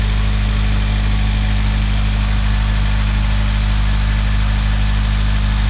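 An idling Honda Civic Type R EP3 engine fitted with an AEM induction kit, a loud steady close rumble with a deep continuous hum and no speech.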